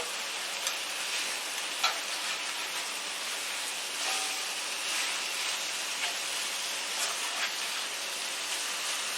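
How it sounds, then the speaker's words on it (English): Chicken pieces for hoisin sauce chicken sit frying in a pan, giving a steady, even sizzle with faint crackles, close and continuous with no voices. "So I just kind of let it sit in the pan for a while before I flip it sometimes."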